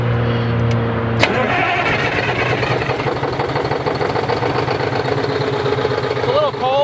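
Rear-mounted diesel engine of a Neoplan Cityliner N117/2-based Pegasus motorhome cranks from the rear control box on a cold, smoky morning, a starter whir giving way to a loud, steady rumbling idle close by.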